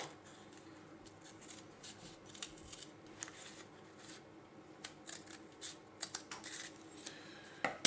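Scissors snip down a taped plastic tube, a quiet series of irregular crisp cuts and rustles, close and faint with no talk.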